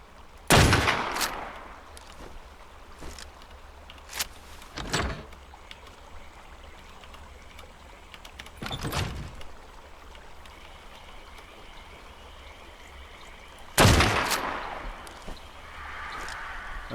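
Gunfire in the video game Ark Survival Ascended: several sharp, loud shots spaced irregularly across the stretch, with a couple of fainter reports between them over a steady ambient hiss.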